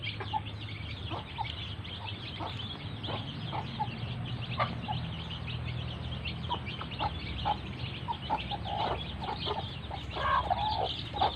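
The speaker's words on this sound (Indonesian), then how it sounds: "Sore hari ini lagi ngasih makan ayam" Free-range village chickens clucking at feeding time, a flock of scattered soft clucks and short calls at moderate distance over a low rural background hum, with no talking.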